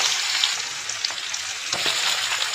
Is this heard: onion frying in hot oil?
yes